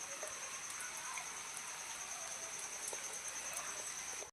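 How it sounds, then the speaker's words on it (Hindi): Steady rain falls continuously outdoors near livestock pens, a dense, even hiss with scattered drops spattering close by, holding at a constant moderate level throughout. "कंटिन्यू पानी बरस रहा,"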